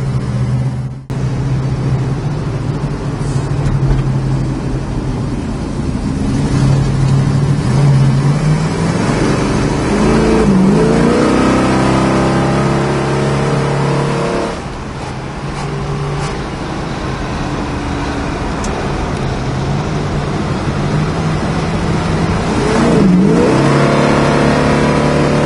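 A 1970 Plymouth Cuda driving on the road, its engine droning loudly from inside the car and rising in several acceleration pulls over road noise.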